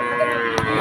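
Cattle lowing at a village cattle market in Betaga, a single short moo rising briefly over steady crowd and market background noise.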